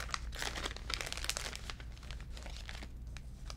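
Paper being handled for English paper piecing, a close, soft run of crinkling and rustling with quick crisp bursts, fading toward the end.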